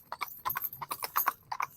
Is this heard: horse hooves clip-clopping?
yes